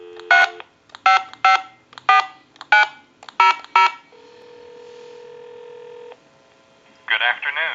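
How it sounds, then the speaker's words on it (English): Seven quick touch-tone beeps in an uneven rhythm, then a steady dial tone, followed by a short burst of ringing from a repaired Porsche 928 car telephone; clear and close. "we'll give you some dial tone, and we'll make that call."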